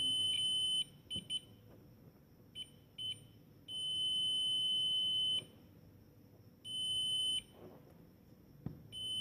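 A multimeter's continuity tester beeping in a high, steady tone while testing a coil in a lamp repair, in several bursts of varying length, some short and some lasting a second or more, close by.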